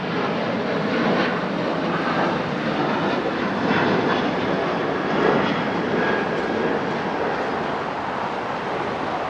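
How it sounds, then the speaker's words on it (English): Jet airliner noise from a Norse Boeing Dreamliner at the airport, a steady, loud, broadband roar of engines that holds evenly throughout with no talking. "As we see Norse back there. It's going to Los Angeles on a Dreamliner."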